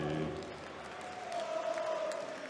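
Crowd of over two thousand at a darts arena in Riesa cheering and applauding, a broad steady roar of claps and voices with a rising whoop midway, near and loud.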